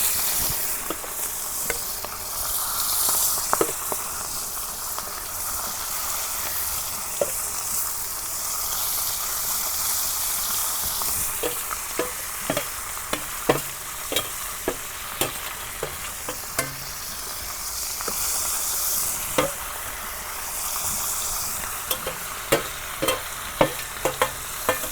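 Rohu fish frying in hot oil in a home village kitchen, a steady sizzle broken by frequent sharp crackles and pops throughout, close and fairly loud with no voices.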